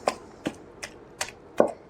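Five evenly spaced pounding thuds, sharp and close, a pestle striking a mortar in a steady rhythm while pounding kachri chutney.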